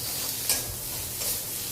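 Bitter gourd pieces sautéing with onion and garlic in a pan sizzle and fry steadily, with a couple of brief stirring scrapes, close and alone without talk.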